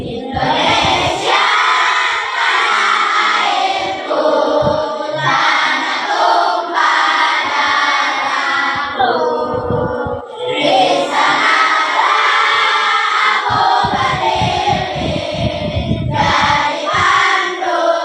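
Elementary schoolchildren at SDN Waluya 01 singing the Indonesia Raya national anthem together, a loud, full chorus of young voices that carries continuously with brief dips between phrases.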